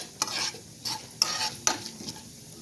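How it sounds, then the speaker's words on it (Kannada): Cumin, chana dal and urad dal frying in hot oil, crackling bursts that come in several distinct pulses as a spoon stirs and scrapes the pan, close up with no talking. "ಜೀರಿಗೆ ಹಾಕ್ಕೊಳ್ಳೋಣ, ಕಡಲೆಬೇಳೆ, ಉದ್ದಿನಬೇಳೆ, ಸ್ವಲ್ಪ ಇದನ್ನು ಫ್ರೈ ಮಾಡ್ಕೋಬೇಕು ಚೆನ್ನಾಗಿ"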